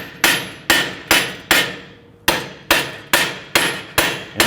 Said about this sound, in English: So we're able to work this out with our hammer.